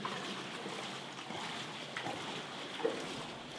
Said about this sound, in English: The mere sound of the gushing water is refreshing